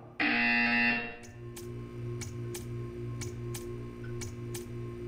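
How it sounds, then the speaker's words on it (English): A Portal 2 video game buzzer blares loudly for about a second, followed by a steady mechanical hum with regular clicking ticks. "When you hear the buzzer, stare at the art."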